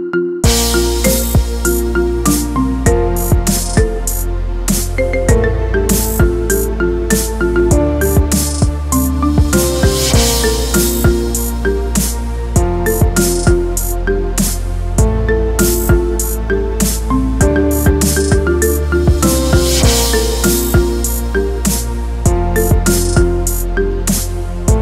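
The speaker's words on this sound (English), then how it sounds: "Get this cool ringtone for your phone now." A bright, melodic marimba remix plays loudly and continuously as a ringtone, with rapid plucked notes over a steady bass pattern repeating throughout.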